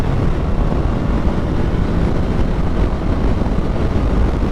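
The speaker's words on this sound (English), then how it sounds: "It does not sound too bad for a stock exhaust at all." The stock exhaust of a 2026 Suzuki GSX-S 1000 motorcycle rumbles loud and steady at a constant idle, deep and close, with no talking.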